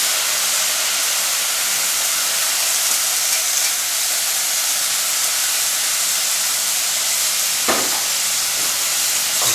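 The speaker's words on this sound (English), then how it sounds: "First, we'll deglaze with a bit of wine." Wine hisses and sizzles steadily in a hot pan of browned vegetables, spices and flour for a Louisiana shrimp Creole, a dense continuous steam with a couple of brief sharper crackles near the end, close and loud, no talking.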